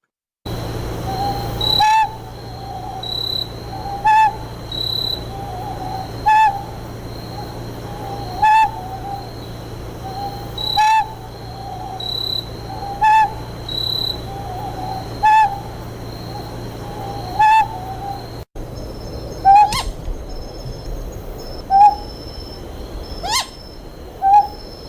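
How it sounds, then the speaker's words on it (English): Repeated hoots of a Lanyu scops owl, tape recorded in the field, come at a steady rhythm of roughly one call every two seconds, clear and fairly close over a faint constant hum, with no talk. "We tape recorded as many owl vocalizations as possible."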